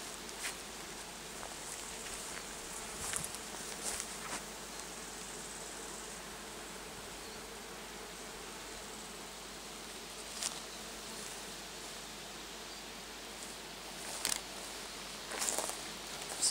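A steady, low hum of many bees at a summer apiary during the main honey flow, continuous and even throughout, with a few louder insects buzzing close past now and then.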